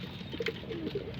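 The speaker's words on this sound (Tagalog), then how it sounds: "Yan na lang po mga ibon natin, kumunti na sila." Pigeons coo softly in short repeated low notes against a steady background hum, close by and with no one talking.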